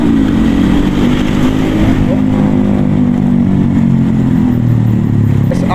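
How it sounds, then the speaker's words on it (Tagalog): An SR 155 motorcycle with an open pipe rumbles loudly on a newly opened road, a steady low engine drone with rising rev swells, heard close against strong wind noise. "155 lang, pero naka-open pipe. Masagwa pakinggan. Parang ingay."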